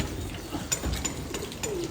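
Pigeons cooing nearby, a recently acquired pair including a khaki hen, with soft low coos repeating over a faint steady background and no talk.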